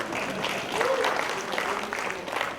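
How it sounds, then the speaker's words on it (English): An audience at a stock-market trading seminar breaks into applause, a moderate wash of clapping that swells and holds, with a voice speaking over it. "give him a round of applause"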